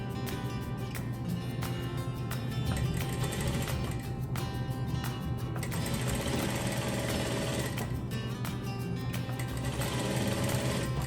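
A sewing machine stitches patchwork quilt blocks for a shadow quilt, a steady, fairly quiet whir of rapid stitching. It goes on throughout with small shifts in speed and a few soft clicks.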